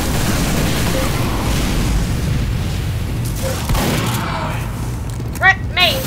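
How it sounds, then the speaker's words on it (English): Team Fortress 2 combat: a rocket launcher's explosive booms and gunfire roll through a loud, dense wash of game noise, with a few sharper blasts near the end. "Thank you, freaking rocket launcher!"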